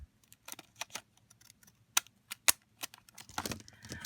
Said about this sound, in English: I can add a little detail with decorative scissors across the top